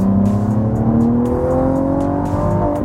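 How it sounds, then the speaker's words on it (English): A 2017 Cadillac ATS-V sedan's twin-turbo V6 revs loudly with a smooth, rising whir, accelerating steadily and close by. "the refinement you get out of this twin-turbo V6 is just fantastic, and it makes a really nice noise too"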